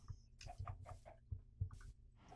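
Chickens in a video game cluck in a rapid, uneven series of short, faint calls, several birds overlapping at a low level.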